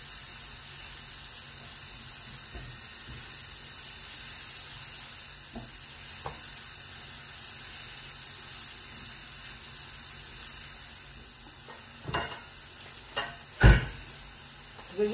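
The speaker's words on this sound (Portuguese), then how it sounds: "Vou saltear aqui um pouco a cebola com ar." Onion sautés in a frying pan with a steady, moderate hiss, and a few utensil knocks and scrapes come in toward the end.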